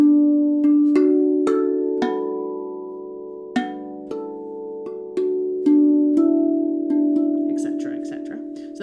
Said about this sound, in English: So this is covering a part of the note, so only the higher octave or the higher note rings through.